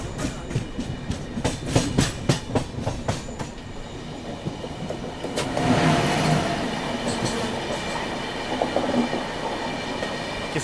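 Humsafar Express passenger train on a ghat section at night, rolling past on the rails with a steady clickety-clack of wheels over joints, rhythmic near rumble swelling midway as another train crosses alongside.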